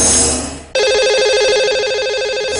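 A telephone rings with a steady warbling electronic tone as a live Hindi radio show dials its lucky caller, loud and clear on its own after a short fade of studio sound.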